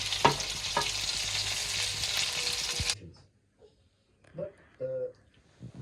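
Chicken fries in a pan with a loud, close, crackling sizzle for about three seconds. It then cuts off abruptly to near silence, followed by a few short bursts of a voice talking.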